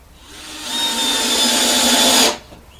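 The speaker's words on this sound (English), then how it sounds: "So I'm going to countersink all of them, and then drill them, and then put the screws in." A power drill whirs loudly at close range while drilling into a board, spinning up and holding a steady high whine for about two seconds before stopping abruptly.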